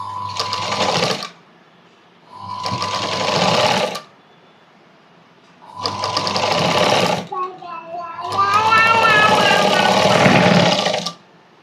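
Sewing machine stitching folded blouse fabric in repeated bursts of rapid mechanical whirring, each run a second or two long and separated by pauses, loud and close.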